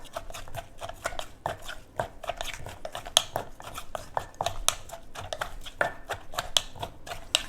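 Green papaya salad, som tam, being pounded in a mortar, with steady close knocks and taps that repeat rapidly and unevenly, mixed with light scraping and no talk.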